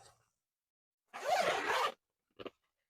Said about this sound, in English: It all has zips which you can open and close